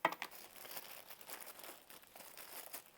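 Soft, close crinkling and rustling of a plastic bag as cooked rice is packed into it, with a sharper crackle at the start and quieter handling after.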